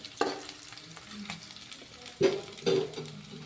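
Garlic sizzling in a hot pan for a tomato gojju, with steady frying hiss and a few sharp stirring scrapes, two louder strokes close together near the end, no talking.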